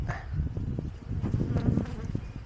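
Close buzzing of many honeybees at an open hive, a busy droning hum with irregular fluctuations, fairly quiet overall.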